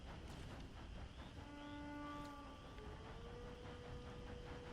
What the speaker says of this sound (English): Okay, the train is again over there.